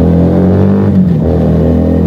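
A Keeway SCR 250V motorcycle fitted with a Mavionic exhaust roars past close and loud, its revving drone dipping in pitch as it sweeps by, with no talking.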